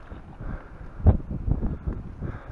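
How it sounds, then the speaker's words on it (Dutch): Cold wind atop a snowy lookout tower buffets the microphone in low rumbling gusts, with one stronger thump and uneven rustling, no talking. "Er staat ook een koude wind hierboven."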